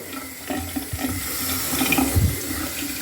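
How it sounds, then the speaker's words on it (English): Cold tap water runs steadily into a bathroom sink as a towel is rinsed, a close continuous splashing rush with small gurgles and shifts in the flow. "Then I rinse my towel out. I'm using cold water here to kill any bacteria."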